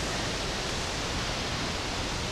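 Pala U waterfall, one of the cascades on a tiered jungle waterfall, gives a steady, broad rushing roar of falling water, close and constant with no break.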